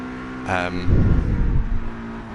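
A racing car in Project Cars 3 revs hard in first gear, a loud, rough engine roar that rises and holds for over a second just after a brief spoken voice.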